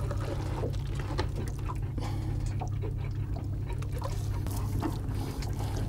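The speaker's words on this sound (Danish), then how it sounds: "Dobbiblandingen hældes i en kartoffelpose, men inden da lægger vi et blylod i posen." Fishing bait mixture poured into a potato bag weighted with a lead sinker aboard a small boat, a steady wet pouring and trickling over a constant low engine-like hum.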